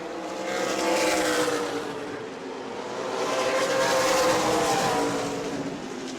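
Super late model stock cars race in a pack at New Smyrna, engines roaring loud and continuous, swelling twice as the field passes close by.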